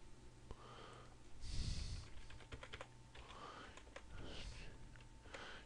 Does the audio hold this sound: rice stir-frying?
no